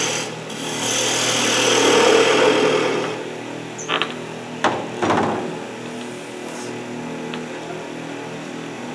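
A wood lathe, with a turning blank trued, secured and balanced, rises in speed with a loud steady whirring hum that fades after a few seconds, followed by a few sharp knocks and quieter rumbling during a library woodturning demonstration.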